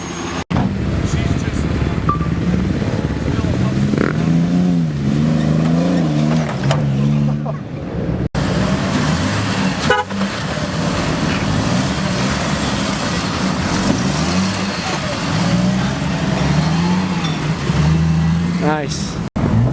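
An off-road Jeep engine at a trail park revs repeatedly as gas is given, rising and falling in strong close bursts, with voices talking over the engine at times.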